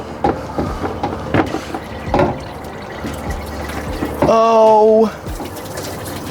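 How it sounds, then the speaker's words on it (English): Coolant from a 2001 Dodge Ram 2500 truck radiator drains into a pan in a brief, steady gush amid clanks and background noise, with someone speaking briefly nearby. "Drain that into the pan."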